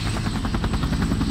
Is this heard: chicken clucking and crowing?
no